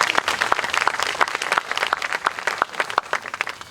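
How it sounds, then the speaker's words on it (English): Applause from a gathered crowd at a historical marker dedication in a cemetery, many hands clapping in a dense, lively patter at close range that continues throughout. "So let's give them another round of applause."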